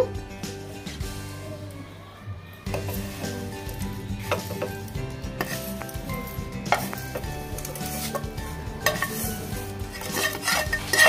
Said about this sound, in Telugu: ఇప్పుడు సేమియాలు నేను తిప్పుతున్నానండి పాలలో కలిసేలాగా